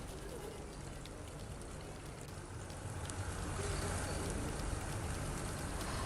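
Heavy rain pours down steadily during a storm, a dense, even wash of hiss and patter that swells slightly louder halfway through, with no voices.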